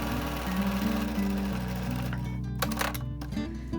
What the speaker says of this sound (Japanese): 1センチ弱ぐらいでミシンで走ります。